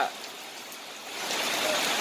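Steady rain pours down in a rural Thai village, a soft broadband hiss that swells louder partway through.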